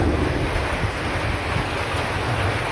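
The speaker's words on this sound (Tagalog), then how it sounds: "Ang lakas ng ulan mga idol." Heavy rain pours down in a dense, constant hiss and rumble that stays loud and unbroken throughout, with no voices.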